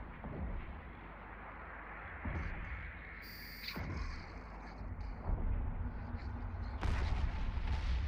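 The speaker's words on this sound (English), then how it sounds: "F2 to fire the guns." Ship guns firing in the space game Eve Online boom repeatedly amid a low rumbling drone, with heavier blasts and a sharp bright burst building toward the end.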